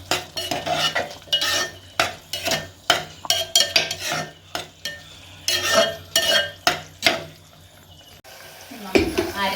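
A mushroom curry with turmeric is stirred in a pan, a spoon scraping and clinking against the metal in repeated bursts over a faint sizzle, close and fairly loud.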